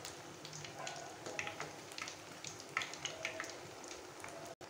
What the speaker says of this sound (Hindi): उलट पुलट कर इन्हें भी अच्छे से फ्राई कर लेते हैं